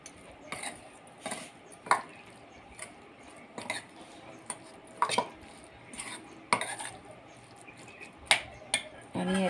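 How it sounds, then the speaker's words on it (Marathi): Grated coconut being stirred by hand into a bowl of curd rice, with a spoon scraping and clinking against the bowl in irregular close taps and short scrapes. There is no talking. "आणि आता हा छान मिक्स करून घेते."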